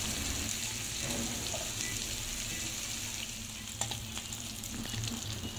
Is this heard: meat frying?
yes